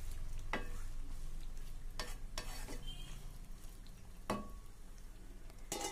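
Chicken frying in a pan for a simple chicken fry, with a spatula stirring it in a few distinct scrapes over a steady low sizzle.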